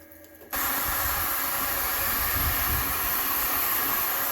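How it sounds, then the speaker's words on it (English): Several electric heat guns switch on together after a short quiet moment, their fans and heating elements producing a loud, steady broadband roar and hiss that continues without a break. No one speaks. "We're going to turn the heat guns on."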